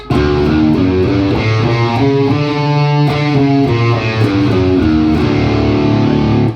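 A distorted electric guitar plays a run of single notes up and down the D double harmonic major scale, exotic-sounding, steady and sustained, with no voices.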